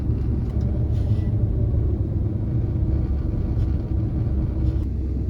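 A car fitted with Holley Sniper fuel injection drives along a road, its engine and tyres making a steady, loud low rumble from inside the cabin, with no talking.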